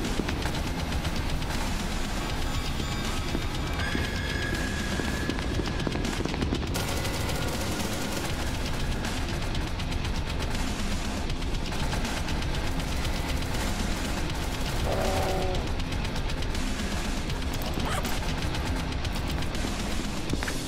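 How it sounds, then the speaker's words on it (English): Gunfire in the game SCP: Secret Lab, sustained rapid automatic bursts and shots crackling continuously through the whole stretch, fairly loud against constant game noise, with no talking. "Shooting."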